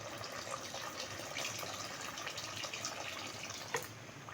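Water streams steadily into a pot of fried yogurt for beef pasanda, a continuous splashing hiss with one brief louder splash near the end.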